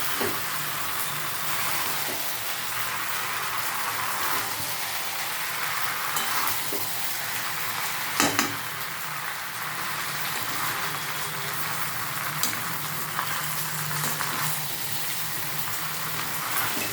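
A jackfruit and prawn curry base of cooked spice paste and added ingredients is stirred in a frying pan, with a constant dense sizzle and repeated scraping strokes of a spoon, close and loud with no talking.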